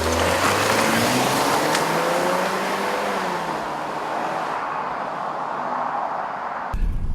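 2014 Ford Escape SUV driving on the road, heard from inside as a steady engine drone with rising and shifting tones under road and wind noise, no talking.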